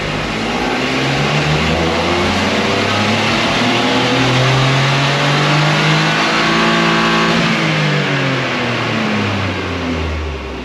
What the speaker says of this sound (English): So the car's loaded up on the dyno.